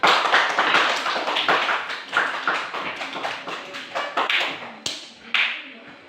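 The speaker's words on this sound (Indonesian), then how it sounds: "Tepuk tangan" A group of people, apparently children in a classroom, claps their hands together. The claps come as quick, fairly close taps that thin out into a few separate claps toward the end.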